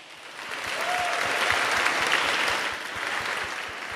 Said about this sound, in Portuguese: Então eu peço a todos presentes uma salva de palmas para a saudosa rainha de Ilê Ifé e Adetá.